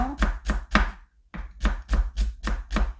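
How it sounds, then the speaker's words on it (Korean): A knife finely julienning green onion for garnish makes crisp, rapid chopping taps on a board. There are bursts of about three strokes, a short pause, then a steady run of five more, all close. "고명으로 얹을 거를요 조금 더 곱게 채를 이렇게 썰어 놓을게요"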